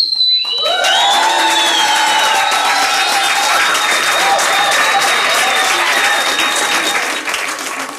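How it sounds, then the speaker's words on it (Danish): A cooking-competition audience bursts into applause for the cooks' food, loud sustained clapping from a crowd that starts abruptly and holds steady before tapering at the end. "fordi folk de klappede af det, man havde lavet"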